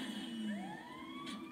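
An ambulance siren in a police role-play scene wails in faint, rising sweeps that glide upward and overlap, sounding distant and alone without any voices.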